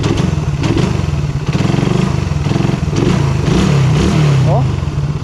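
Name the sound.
Suzuki Raider 150 carburetor motorcycle engine running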